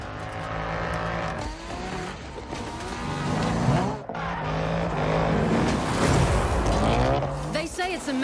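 A BMW X6 M racing off-road in Need for Speed Payback, its engine revving up and down with tire squeal and skidding, the car loud and close under talk and other game sounds.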